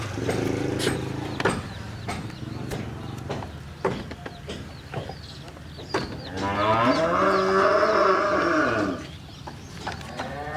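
Dairy cows at a farm moo loudly, with one long drawn-out low call dominating the middle, amid other farm noise and scattered knocks.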